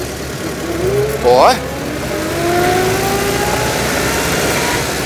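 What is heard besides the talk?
engine of a 1929 Dennis G-type fire engine while shifting gears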